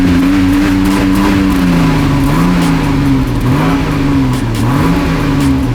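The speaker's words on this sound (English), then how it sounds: "Let's get some revs in it." A stock Toyota Supra engine revs loudly and steadily up close, its pitch rising and dipping through several blips of the throttle across the whole stretch.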